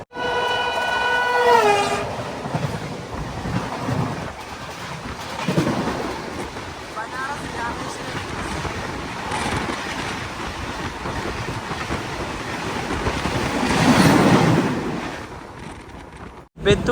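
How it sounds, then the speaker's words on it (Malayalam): The Ernakulam Patna Superfast Express pulls into platform 2 at Betul station in Madhya Pradesh. A loud horn blast opens, then wheels rumble and clatter on the rails at close range, swelling again near the end. "ബെത്തൂൾ റെയിൽവേ സ്റ്റേഷന്റെ 2ാം നമ്പർ പ്ലാറ്റ്ഫോമിലാണ് നമ്മുടെ വണ്ടി വന്നത്"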